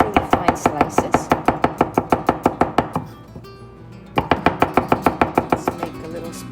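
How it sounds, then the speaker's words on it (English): A knife cuts peeled potatoes into very thin slices on a board, a quick regular series of sharp close taps that pauses for about a second, then resumes at the same pace. "we're just going to cut them into really, really fine slices"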